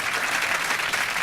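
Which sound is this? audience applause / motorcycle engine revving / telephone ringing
audience applause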